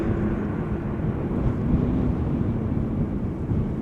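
An airplane on approach to Amsterdam Schiphol Airport on a breezy day gives off a steady low, rumbling roar under constant wind noise, moderately loud and unbroken throughout.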